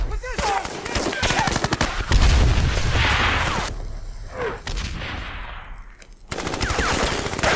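Machine-gun fire and battle noise from a World War II war drama set on Iwo Jima, loud and continuous with bursts and booms, with some voices under the gunfire.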